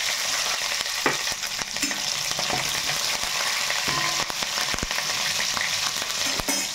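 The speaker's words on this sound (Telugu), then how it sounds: "పచ్చిమిర్చి ఇప్పుడు చిటాపట్టలు ఆడతాయి." Green chillies and curry leaves crackle and sputter in hot oil for a fish curry, a dense close sizzle dotted with sharp pops and occasional stirring clicks, steady for the whole stretch without talk.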